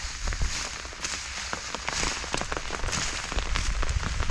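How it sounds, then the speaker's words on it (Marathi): Rain pattering steadily on a surface nearby, dense irregular drops with occasional louder taps. "पाऊस चालू आहे वरला तुम्ही भिजताय"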